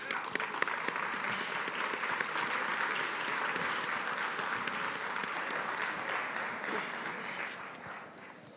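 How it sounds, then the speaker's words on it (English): An audience at an energy summit panel claps steadily and fairly loudly, a dense, continuous patter of many hands that fades a little at the end. "How about a round of applause for everyone?"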